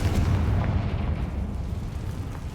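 Confringo blasting spell explosion in the Hogwarts Legacy video game, a heavy rumbling boom with sustained low roar that slowly fades, loud and alone.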